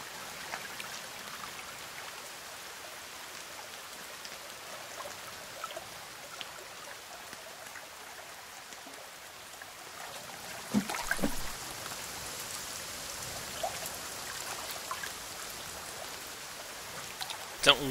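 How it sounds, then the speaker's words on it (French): Steady rain pours in The Forest survival game, a constant broadband hiss with faint patter, rising a little louder after the midpoint with a few sharper splashes near the end. "Et cette pluie qui ne cesse pas"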